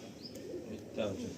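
A pet pigeon at a loft in Dankuni gives a soft, low coo, faint and brief, partly under people talking.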